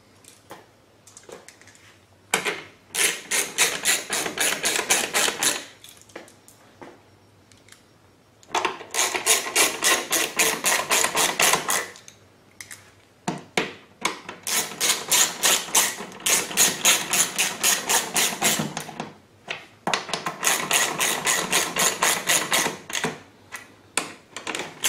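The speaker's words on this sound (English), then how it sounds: "We'll put these three bolts into the bottom." Bolts are driven into the bottom of an Echo BearCat 3500 wireless remote control mount, heard as five bursts of rapid mechanical rattling, each lasting a few seconds and separated by short quiet pauses.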